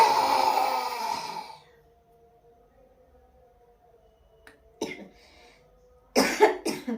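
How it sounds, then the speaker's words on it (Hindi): During a yoga squat exercise, a few coughs and throat-clearing bursts come close and fairly loud after a quiet stretch with a faint steady hum, one pair near the middle and a stronger cluster near the end. "खांसी आ जाएगी तो कोई प्रॉब्लम नहीं।"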